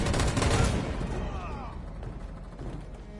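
Rapid gunfire in Detroit: Become Human, a loud dense burst of shots that fades away after about a second, leaving a quieter ambience with faint voices.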